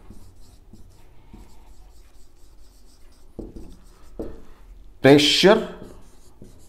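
Marker or chalk scratching on a classroom board during a physics lesson, in short intermittent strokes under a teacher's speech.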